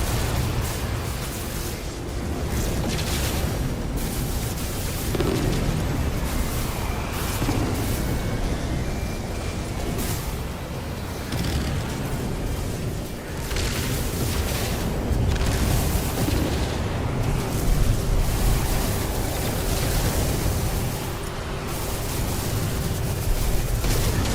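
Missile explosions in the space game No Man's Sky, a dense continuous roar of booms and rumbling blasts layered over one another at steady loudness, with no voices.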